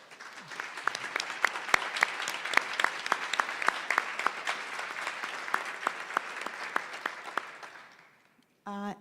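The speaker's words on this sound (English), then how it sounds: "So you deserve our applause." A modest audience applauding at a conference session on digital technologies, sharp individual claps clearly distinct at moderate level, fading out near the end before a voice begins.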